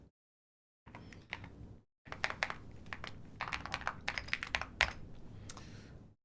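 Computer keyboard typing: irregular bursts of close, crisp keystrokes after a brief pause, clattering steadily with no voices.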